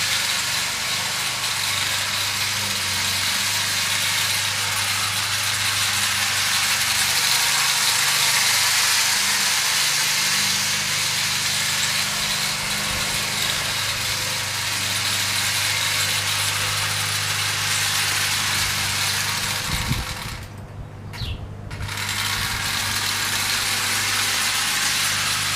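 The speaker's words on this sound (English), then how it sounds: "the locomotive is warming up just a little bit, so it's going a bit faster" A vintage Marx toy train locomotive runs around its track with a steady, loud mechanical hum and motor drone, a faint rattle throughout, and a brief dip near the end.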